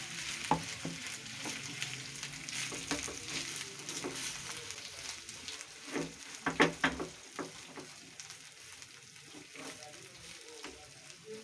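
Grated potatoes being stirred and fried in a home kitchen pan, a steady close sizzle with scraping stir strokes and a cluster of sharper clatters midway, no talk over it.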